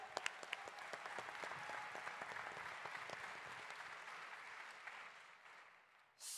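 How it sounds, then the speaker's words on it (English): Applause from an audience at a conference closing plenary, many hands clapping steadily at moderate distance, with a few sharper claps early on before it tapers off near the end. "Let's give our panelists another round of applause."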